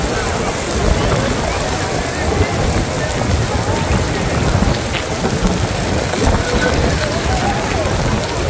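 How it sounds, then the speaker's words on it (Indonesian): Heavy rain pours steadily at Masjidil Haram, a dense unbroken roar close by with faint thunder rumbling beneath and soft voices talking under the downpour. "hujannya tambah besar"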